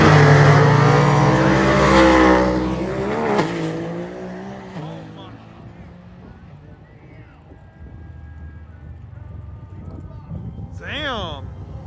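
A 2,200-horsepower Nissan GTR drag racing down the strip, its engine roaring loudly and rising in pitch as it launches, then fading into the distance, with spectators talking over the noise.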